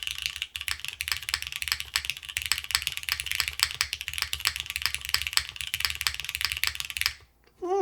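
Fast, steady typing on a Sonnet mechanical keyboard fitted with PBT keycaps, heard up close: dense, even clacks with a low thocky body, stopping briefly near the end.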